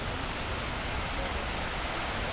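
Waterfall at the 9/11 Memorial in New York City, a steady, dense broadband rush of falling water that holds evenly loud throughout with no breaks.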